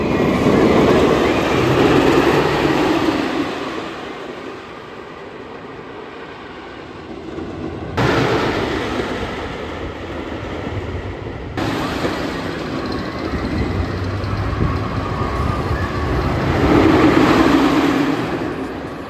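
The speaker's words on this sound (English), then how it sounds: "this year they actually are running the blue train again" The blue train at Six Flags Darien Lake amusement park rolls past, a continuous rumbling, clattering run of wheels and cars that swells and fades across about twenty seconds, with a few abrupt cuts and no talking.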